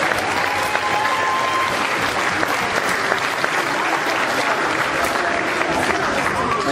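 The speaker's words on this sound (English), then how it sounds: "And a big round of applause for all of our retro grads." Dense, continuous applause from a large crowd at a 2018 graduation fashion show, cheering the graduates with steady clapping throughout.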